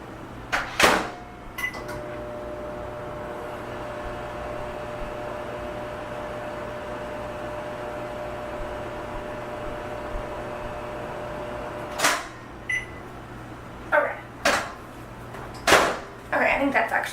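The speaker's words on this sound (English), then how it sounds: "maybe I'll throw it in the microwave for a couple seconds" A microwave oven runs with a steady hum while softening a baking ingredient for Halloween cookies, a few door clunks and beeps at the start and end, close by.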